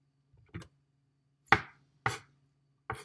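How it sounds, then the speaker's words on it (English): A knife cutting the stem area off a vegetable on a board, four distinct sharp chops spaced apart, close and clear, with no voices. "that stem area, we're just going to cut right off"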